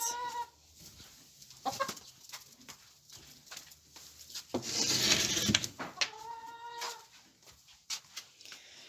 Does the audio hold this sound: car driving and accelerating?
no